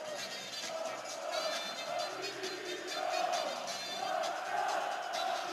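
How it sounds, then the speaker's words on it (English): Montenegrin football supporters at a Serbia versus Montenegro match, a large stadium crowd roaring and chanting in a steady, surging mass that swells repeatedly, heard from a distance with no clear speech. "Oh, the crowd are cheering away."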